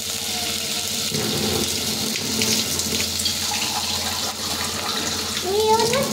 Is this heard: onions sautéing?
no